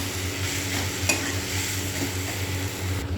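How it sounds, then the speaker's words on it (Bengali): A spatula stirs and presses banana flower (mocha) curry in a pan: a soft, continuous sizzle with scraping strokes and one sharp clink, up close and without speech. "এরপরে খুন্তিতে একটু চেপে চেপে দিতে হবে, তবে সব কিছু মশলা ভালো করে মিশবে।"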